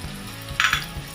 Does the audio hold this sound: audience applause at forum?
no